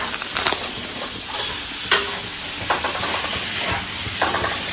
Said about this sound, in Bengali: রান্না করছি